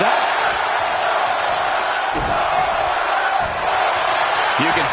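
Simulated wrestling arena crowd in WWE 2K25: a dense, continuous roar of many voices, loud and steady, with a few faint thuds and swells, with no clear speech.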